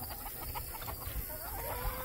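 A young silkie rooster clucks softly and repeatedly in short bursts against a noisy outdoor background, fairly quiet overall.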